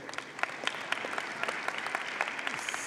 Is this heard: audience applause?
yes